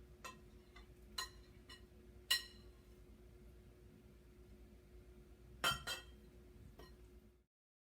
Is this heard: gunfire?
no